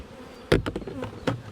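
Honeybees at an opened hive keep up a low background buzz while several sharp knocks and clatters of hive parts strike close by, one loud hit followed by a few lighter ones.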